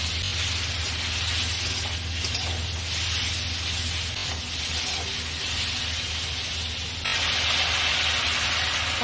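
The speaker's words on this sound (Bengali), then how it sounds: "এবার ভালো করে এটা কষিয়ে নেব।" Turmeric, coriander and cumin powder sautéed in a pan for a ridge gourd fish curry, giving a steady, close, even hiss that runs throughout with little change.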